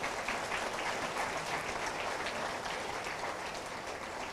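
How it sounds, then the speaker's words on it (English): A college auditorium audience at a freshers' day event claps steadily and densely for several seconds, a continuous wash of applause that fades only slightly toward the end. "Yeah, you can clap, man."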